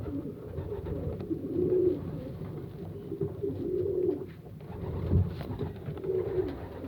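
A female pigeon coos softly in a series of low, throaty calls, repeated at a steady rhythm and heard close by against a quiet background.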